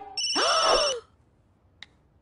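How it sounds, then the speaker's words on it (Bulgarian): A telephone rings in a Barbie Life in the Dreamhouse cartoon scene, one loud electronic ring of about a second that stops sharply, followed by a faint short click. "И точно тогава телефонът извъня."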